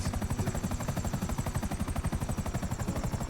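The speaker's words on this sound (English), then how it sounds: "I'm really good at flying a helicopter" A helicopter flies in GTA V with the LSPDFR mod, its rotor chopping in a steady, fast pulse with a loud constant engine whine, close and continuous with no talking.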